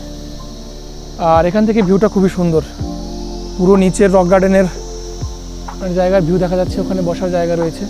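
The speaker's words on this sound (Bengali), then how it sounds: "পুরো ঝিঝি পোকার ডাক" Crickets chirp in loud, rapid pulsed bursts, three separate trills at a rocky garden viewpoint in Darjeeling's tea country, heard close under a person talking.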